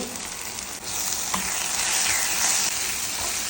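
Food sizzles and fries steadily in a pan while being roasted for a traditional Konkani recipe of soyye muddo and batate song, a continuous close hiss with faint stirring scrapes and no talk.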